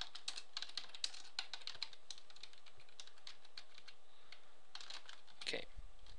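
Computer keyboard keys clicking in an irregular burst of presses while editing an Excel VBA userform, close and fairly quiet, with a slightly louder flurry near the end and no talk.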